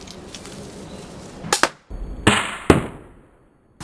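A mini pistol crossbow looses a bolt: a couple of sharp, snapping releases with quick clacks and rattles, close and loud, set against near silence.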